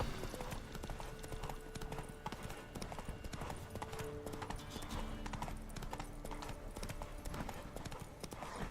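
Horse hooves clip-clop in a steady rhythm throughout, from a horse ridden in the Witcher 3 video game, with occasional faint speech and game ambience beneath.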